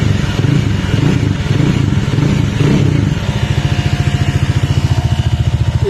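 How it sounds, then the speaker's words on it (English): A Bajaj Dominar 400 motorcycle engine revs loudly and close up, rising and falling, then settles into a rhythmic, chugging idle. "Keep revving the bike a bit in between"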